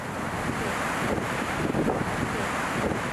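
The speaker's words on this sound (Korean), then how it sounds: "저 파도 좀 보세요" Steady wind buffeting the microphone over continuous surf on a beach at Gangneung, Gangwon Province, during a severe winter cold snap; a broad, loud roar with waves surging beneath and no voices.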